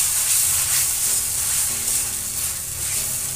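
Eggplant pieces hit a spice paste frying in oil, giving a close, continuous sizzle with some stirring and scraping, loud and steady, with no talking.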